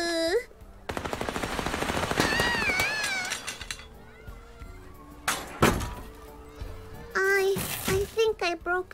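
Rapid machine-gun-like bursts of gunfire in the dark adventure game Little Misfortune, a fast rattling stream of shots followed by scattered thuds and impacts, with a child-like voice speaking at the start and end.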